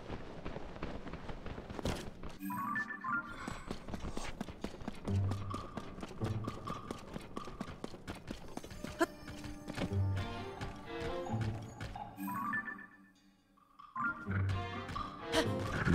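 Horse hooves clip-clop in Zelda: Tears of the Kingdom, a steady rhythmic trot of hoof strikes with brief pauses, accompanied by game music and occasional thuds.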